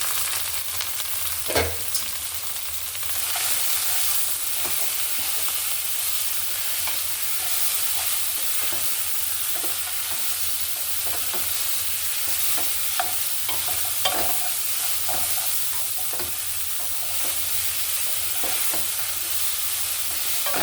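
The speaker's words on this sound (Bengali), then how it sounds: "পেঁয়াজ ভাজনাটা আমার হয়ে গেছে, এখন যে আমি ঝরিয়ে রেখেছিলাম স্টেনারে সেটা আমি ঢেলে দিচ্ছি।" Drained bottle gourd greens are tipped into frying onions in a pan, setting off a loud, steady sizzle with intermittent stirring scrapes, close up and continuous throughout.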